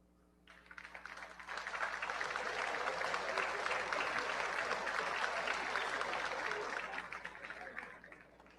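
Legislators in the National Assembly break into applause, a dense wash of clapping that swells in, holds steady for several seconds and fades out, heard at a moderate distance in a large chamber.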